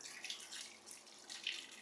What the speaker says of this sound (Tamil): இதை நல்லா போட்டு தண்ணியெல்லாம் போட்டு பக்காவாக க்ளீனாக வாஷ் பண்ணிங்க.